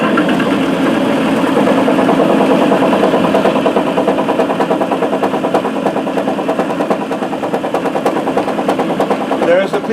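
A ball spinner machine whirs a drilled bowling ball with holes, a loud steady mechanical hum with rapid fluttering pulses held throughout.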